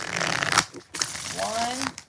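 Tarot cards are shuffled in quick riffling bursts, with a short pause between two rounds; a voice speaks over the second round.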